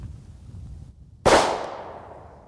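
A single sharp, loud crack from a Morganti ported .38 Special revolver firing a 125-grain jacketed hollow point +P load, ringing out and decaying over about a second in a quiet setting.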